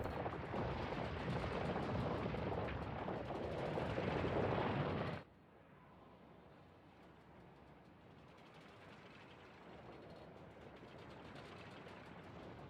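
Low rumbling like crashing rocks in the Shin Megami Tensei V Vengeance video game, a dense noisy roar that cuts off abruptly partway and drops to a faint ambient hum, fairly quiet overall.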